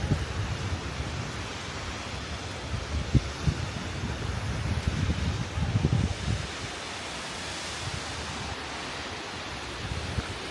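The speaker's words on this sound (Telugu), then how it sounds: "కొద్దిగా ముందుకెళ్తే మనకు ఆ కింద వాటర్ ఫాల్స్ కూడా మొత్తం కనబడుతుంటాయి" Waterfalls rushing below a hanging bridge in the Black Forest, Germany, heard as a steady broadband roar from a distance, blended with wind buffeting the microphone and no voices.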